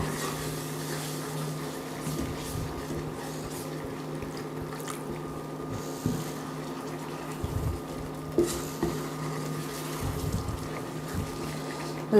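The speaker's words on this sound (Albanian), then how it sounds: "Duke hedhur ujë, duke e trazuar." Water is poured little by little into a frying pan of golden-browned food while it is stirred, giving a soft sizzling, bubbling hiss with faint scraping and clinks of the spoon, no voices.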